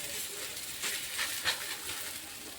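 Banana paratha frying in oil on a hot tawa, a steady soft sizzle and hiss with a few brief louder crackles, heard alone without voices.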